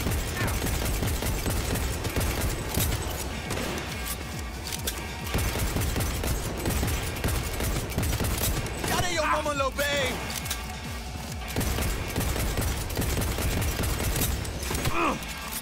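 Gunfire during a Cyberpunk 2077 fight comes in loud, rapid bursts of repeated shots mixed with clanking mechanical noise and a busy game soundtrack, rising and falling in stretches with brief lulls between volleys.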